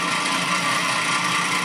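A variable speed drill press runs steadily, a constant broadband whir with a faint motor hum that holds even throughout, with no talk.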